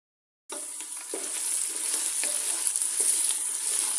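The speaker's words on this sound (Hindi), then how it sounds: "और 5-6 मिनट के लिए लोबिया को भी अच्छे से इस मसाले में भून लूँगी।" Black-eyed beans fry in a spice masala in a pan, a steady close sizzle that begins abruptly, with a spoon scraping and stirring at intervals.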